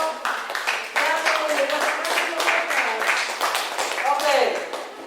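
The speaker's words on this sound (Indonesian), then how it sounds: "berikan aplaus dulu untuk kelompok" Classroom audience applauding a presenting group: steady, dense clapping from many hands, close and lively, lasting about five seconds with a voice briefly heard near the end.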